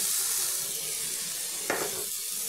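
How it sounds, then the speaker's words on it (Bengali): Cut pieces of banana stem fry in hot oil with already-fried potatoes, giving a steady, close hiss of sizzling with one brief clatter partway through and no speech. "এখন আমি এই কেটে রাখা থোরগুলো দিয়ে একটু ভেজে নেব"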